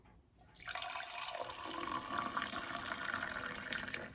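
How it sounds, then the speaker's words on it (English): Spearmint black tea poured from a height into a glass to build froth, a steady close liquid splash that runs unbroken for about four seconds after a short quiet start. "how they do it in the villages is it is poured from a height to create these"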